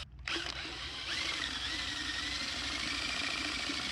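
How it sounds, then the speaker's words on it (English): Power drill spinning the impeller of a standard small block Chevy water pump, a steady loud whine and motor drone that starts abruptly and runs continuously without talk. "cut a groove in the end of the pump so I can use this power drill"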